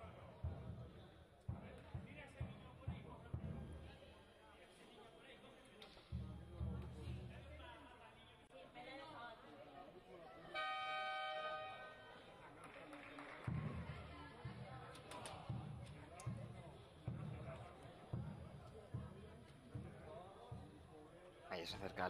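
A buzzer horn sounds once for about a second at a wheelchair basketball league game in Spain featuring Bidaideak Bilbao BSR. Ball bounces, squeaks and arena chatter surround it, and a commentator talks throughout.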